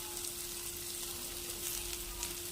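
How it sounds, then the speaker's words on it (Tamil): Egg and bread stuffing masala sautéing in a pan makes a soft, continuous sizzle, faint and even throughout with no talking. "மசாலா ஆட் பண்ணிவிட்டு ஒரு 2 நிமிஷம் நல்லா வதக்கி எடுத்துக்கலாம்"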